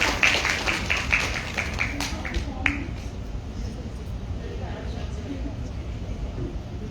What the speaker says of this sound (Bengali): এর জন্য হাততালি।